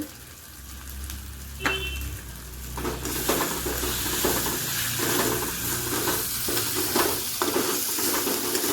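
Ground spices such as coriander and cumin powder stirred and fried in a pan for potol korma, a steady sizzle with rhythmic scraping strokes of the spatula, close up and without talk.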